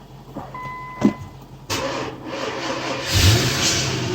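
A freshly reassembled Nissan Infiniti M45 with its 4.5 liter VK45DE V8 is started for the first time: a faint click, then the engine cranks, catches and settles into a rising, revving idle close by, with no talking.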